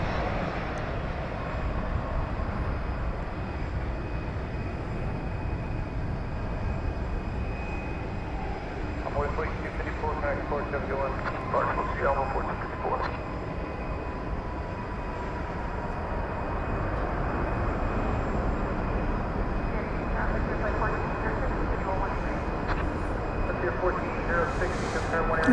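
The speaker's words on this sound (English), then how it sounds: "American 2351 from Mexico City is our next arrival." American Airlines Boeing 737-800 arriving from Mexico City, a distant steady jet rumble with a thin high whine, slowly growing a little louder toward the end.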